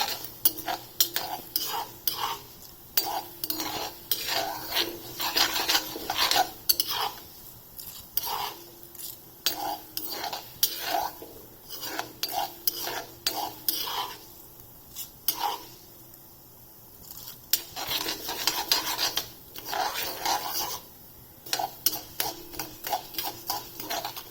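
A spoon stirs urad dal roasting in oil in a pan, producing steady rhythmic scrapes and metallic clinks over a light sizzle, close up, with brief quieter pauses between bursts of stirring.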